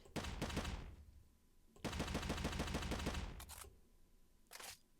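Machine gun firing in a video game: two long rapid bursts, the second lasting over a second, then two shorter bursts, each sharp and close, with no talking over them.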